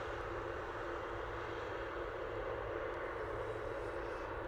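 Steady, broadband roar of Delta airliner jet engines during a full-length runway takeoff at Dublin Airport, heard from a distance as a continuous, even rumble with no talk.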